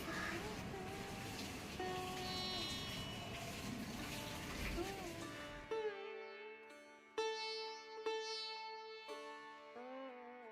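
Water runs from a tap for face washing, a rushing gush for several seconds that then stops, leaving quiet room sounds with a few soft thumps and tonal background music.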